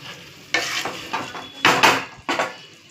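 Water is poured into a Bengali curry frying in a pan, and each addition sets off a loud, hissing sizzle. Several sharp bursts come close together, with stirring scrapes in between.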